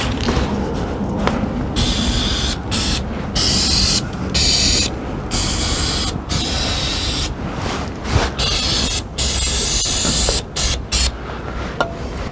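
Lubricant sprays in bursts onto an electric step mechanism, loud close hissing spurts separated by short pauses, with a few mechanical clicks and thumps.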